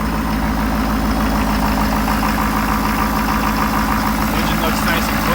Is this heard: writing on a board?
no